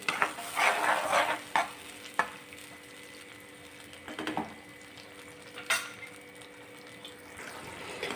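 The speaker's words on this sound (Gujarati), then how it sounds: "હવે એકથી બે મિનિટ માટે હજી આપણે સરસ રીતે આપણી ગ્રેવી ભીંડામાં સરસ એવી ચડી છે ને ત્યાં સુધી આપણે રહેવા દઈશું" Okra cooks in a yogurt gravy in a pan, with soft sizzling and bubbling under intermittent stirring scrapes and occasional utensil clinks against the pan.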